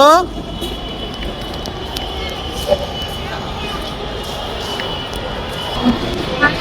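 A Dhaka metro rail train pulls out of a crowded station, its steady rolling rumble and whine sustained under a busy crowd with people talking nearby.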